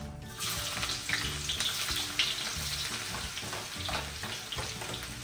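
Chopped garlic frying in hot cooking oil, a steady crackling sizzle that holds from start to finish with faint clinks and scraping over it, no voices.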